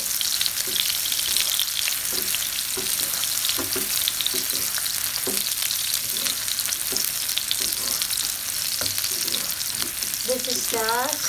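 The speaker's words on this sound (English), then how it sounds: "Then we add the sliced onions, so we just fry it. Just saute a little bit." Sliced onions sizzle steadily in a hot frying pan for pad thai, a bright continuous crackle with soft stirring scrapes throughout and a short squeak near the end, close and fairly quiet.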